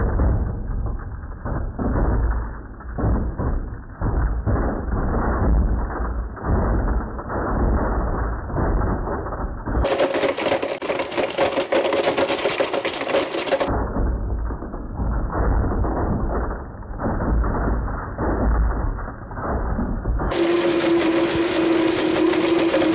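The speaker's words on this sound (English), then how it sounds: "which one will blend faster in a Blendtec Total Blender?" A Blendtec Total Blender grinds a Galaxy S3 phone in a loud, continuous mechanical roar that shifts abruptly in pitch and harshness twice as the blending goes on, with no voices.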